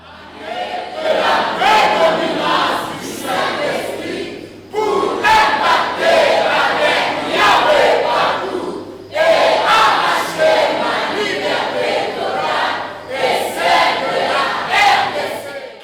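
A French-speaking church congregation cheers and shouts acclamations in loud, sustained waves, with four long bursts of massed voices separated by brief dips.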